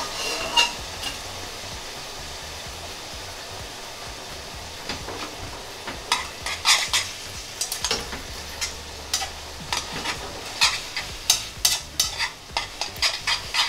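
Pasta with prosciutto and mushrooms cooking in a frying pan: a faint steady bubbling sizzle, joined later by a quickening run of tossing clacks and utensil taps.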